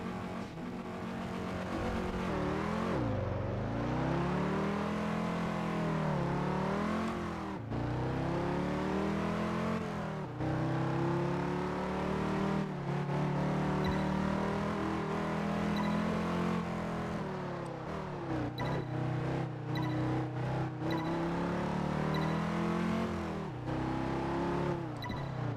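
A Dodge Viper's engine in Test Drive Unlimited 2 drones loud and steady, pitch climbing and dropping through repeated revs and gear shifts while the car drives on, with no talk over it.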